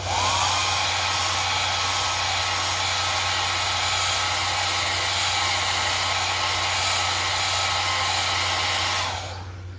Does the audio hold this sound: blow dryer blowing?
yes